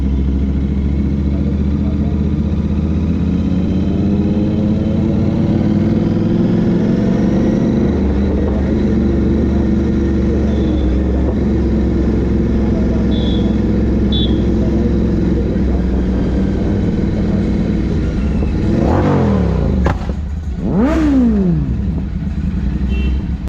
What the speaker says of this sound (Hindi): बाइक तो नो डाउट बहुत अच्छी है